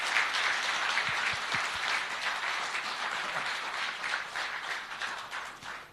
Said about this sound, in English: So could you please join me giving a huge round of applause for everyone?